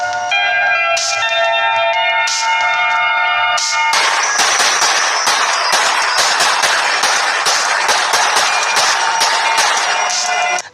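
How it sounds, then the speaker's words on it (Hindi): Celebratory gunfire shot into the air at a Taliban victory rally, a rapid series of loud sharp cracks following ringing bell-like tones, dense and continuous with crowd noise beneath. "आतंकियों ने हवा में खूब गोलियां चलाई"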